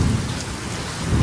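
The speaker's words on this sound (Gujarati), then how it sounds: "અત્યારે ફૂલ વરસાદ ચાલુ છે અહીંયા." Heavy rain pours down during a thunderstorm that earlier brought hail, a steady, loud, close roar of falling water with a deep low rumble of thunder beneath it.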